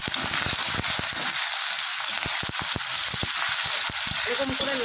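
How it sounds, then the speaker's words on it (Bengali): Shrimp fries in hot oil with mustard seeds and dried chili, giving a dense, loud sizzle packed with sharp crackling pops throughout. A brief voice comes in near the end. "একটু সর্ষে ফোড়ন দিয়ে দিলাম, ঠিক আছে। আর শুকনো লঙ্কা, চিংড়ি মাছটা একটু ভেজে নিই।"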